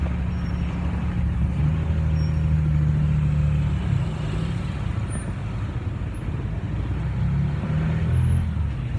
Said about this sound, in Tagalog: maraming dumadaan na sasakyan